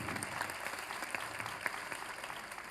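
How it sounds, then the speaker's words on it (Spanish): Audience at a book fair presentation applauds an author, a steady, distant-sounding roll of many hands clapping with occasional sharper individual claps. "le damos un fuerte aplauso"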